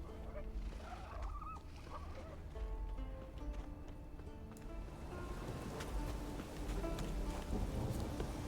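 Harpies at their nest in Witcher 3 let out squawking, honking bird-like cries over a busy game soundscape with thuds and clatter, the calls bunched early and scattered later.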